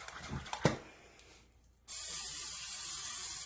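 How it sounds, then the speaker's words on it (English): A short oil spritzer gives a sous vide steak a quick spray, a sudden steady hiss that follows a couple of soft clicks and handling taps. "We're just going to give it a quick little spritz."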